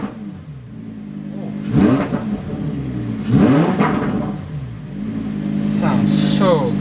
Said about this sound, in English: Rev it up in Corsa mode.